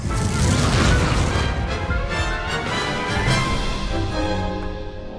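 Expulso and Confringo spell blasts in the Hogwarts Legacy video game: loud, dense booming crashes and bursts with a continuous rumble over about five seconds, crackling harmonic tails fading near the end.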